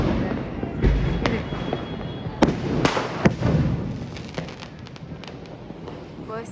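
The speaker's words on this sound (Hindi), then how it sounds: "अभी रात के 10 बज रहे हैं, तो स्काई शॉट्स की ही आवाज़ आ रही है" Sky shot fireworks bursting at night during Diwali on a rooftop, a series of distant pops and sharp cracks scattered over a continuous crackling background, moderately faint.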